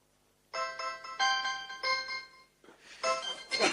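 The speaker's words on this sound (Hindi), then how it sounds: "अलार्म बंद करो" An alarm rings indoors in a home, a bright electronic tone pattern sounding in repeated bursts for a few seconds after a brief quiet start.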